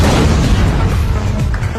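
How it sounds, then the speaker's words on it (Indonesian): A bomb detonating in an action movie scene, a heavy continuous boom with dense low rumble and broadband debris noise sustained loud throughout, no voices. "anak buah yang sembunyi melihat Mint dan langsung ledakkan bomnya"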